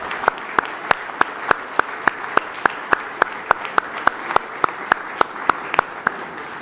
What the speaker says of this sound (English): a big round of applause for Prime Minister Narendra Modi.